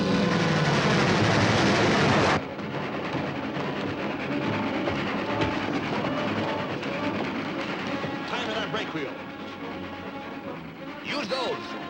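A train rolling fast on rails in an old serial adventure, a loud continuous rumble and rattle of wheels and cars that opens with a bright roar and then settles into a steady grinding clatter.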